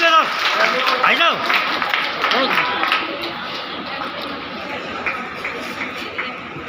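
Audience clapping and crowd noise at a Shrimad Bhagavat katha gathering at a Radha Raman temple, loud at first with excited voices and shouts over it, then settling into steadier, softer applause.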